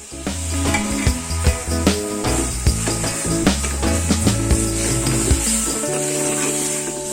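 Chicken pieces for a Sri Lankan chicken curry are stirred into a hot pan with coconut, giving a continuous sizzle broken by repeated ladle clinks and scrapes against the pot, with a tonal hum underneath.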